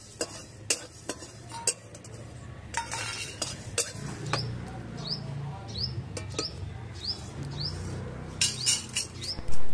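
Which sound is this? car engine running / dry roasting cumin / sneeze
dry roasting cumin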